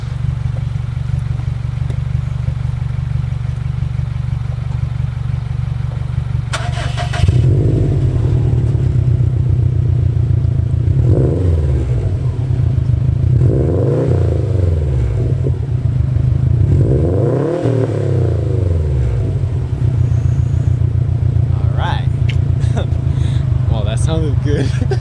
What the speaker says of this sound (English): he's gonna turn it on and rev it up.